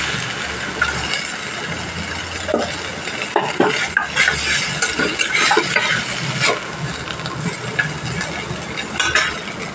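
Small puti fish fry in mustard oil in a pan, with a steady crackling sizzle and the close clatter and scrape of a metal utensil against the pan. The tapping comes in irregular bursts and there is no speech.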